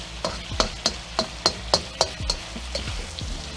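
Shrimp stir-frying over high heat, likely garlic honey shrimp with sugar snap peas, with a run of sharp scraping and clattering spatula strokes, roughly rhythmic, over a steady close sizzle, and no talking.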